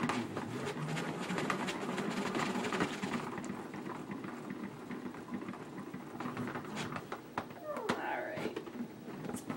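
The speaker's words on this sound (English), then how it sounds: "I like to play with my salad spinner." A salad spinner whirs quickly with kale inside, a rapid rattling spin that runs loud for a few seconds and then slows into looser clatter and handling noise.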